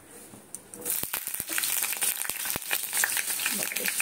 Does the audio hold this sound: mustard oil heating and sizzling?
yes